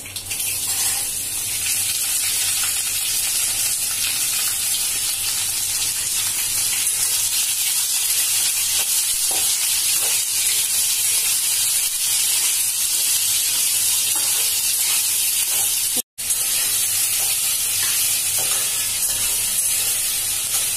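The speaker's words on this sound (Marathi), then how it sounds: "लसूण चांगला लाल झालाय, फोडणी तडतडली। आता आपण कैरी टाकतोय।" Steady, loud sizzling hiss of raw mango frying in hot spiced oil with garlic tempering in a wok, continuous throughout with one brief dropout near the end.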